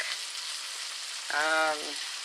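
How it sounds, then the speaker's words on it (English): Fish sizzles and crackles steadily in a frying pan, a close, continuous broadband hiss, with a brief harmonic squeal or clatter partway through. "Since it's fish, it doesn't take a long time to cook."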